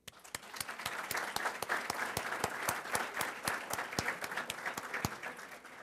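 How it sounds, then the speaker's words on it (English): An audience at an ESL graduation ceremony on a Naples campus claps steadily in a hall, with individual claps sharp and distinct within a continuous wash of applause. "let's give them another round of applause"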